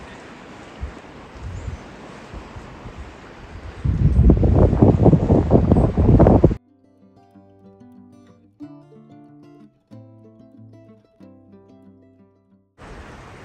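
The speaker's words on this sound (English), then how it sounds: "gusty and windy up there." Gusty wind on a sailboat buffets the microphone, building into loud rough blasts before cutting off abruptly, after which soft music plays until the wind noise returns.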